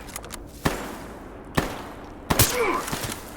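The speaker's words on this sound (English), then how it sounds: "They're freaking shooting at me!" Sniper gunfire in STALKER Gamma, three sharp isolated shots spaced about a second apart, with a whooshing tonal sweep after the last one over a low ambient background.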